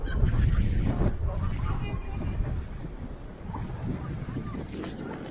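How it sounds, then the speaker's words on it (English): Gusty wind buffets the microphone during a snowstorm at a city intersection among tall buildings, with rough, surging low roars that rise and fall and a voice talking briefly underneath. "And here come those gusty winds."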